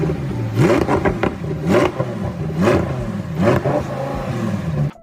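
A 2024 Lamborghini Huracán Tecnica V10, freshly repaired after an accident, revs hard while drifting outdoors. Repeated rising and falling engine sweeps sound loud and close, with a short burst roughly every second and no voices.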